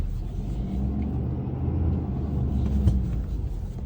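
A vehicle engine idles and rumbles steadily while the vehicle backs up, a low continuous drone close by with a slight swell near the end, no talking.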